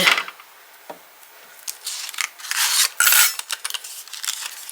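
An intricate metal die is cranked through a manual die-cutting machine for a Stampin' Up! Season of Chic card, then rolled back, giving close, irregular clicks, scrapes and rattling mechanical bursts with short pauses between.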